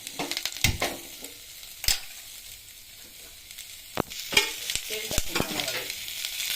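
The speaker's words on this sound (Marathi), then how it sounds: "आता आपण कांदा वाजून घेऊया" Onion frying in oil in a pan on a wood-fired stove in rural Konkan, with close, steady sizzling broken by scraping stirs and clinks against the pan.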